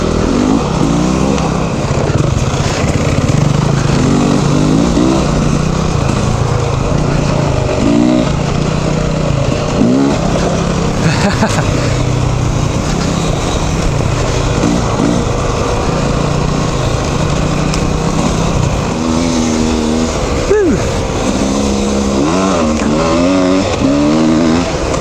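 A motorcycle ridden on a mountain road near Frazier Park hums steadily up close, its engine note rising and falling repeatedly through acceleration and gear changes over a constant wind rush.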